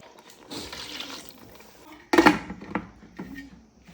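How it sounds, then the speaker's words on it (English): Water is poured into a pot of ogbono soup cooking on the stove, a short splashing pour followed by a sharp clatter of pot or utensil and a few lighter knocks, fairly close. "I'll add more water and allow to steam a bit."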